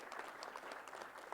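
A brief burst of audience applause at a panel discussion in Utica, steady clapping from a small crowd heard fairly faintly for about a second.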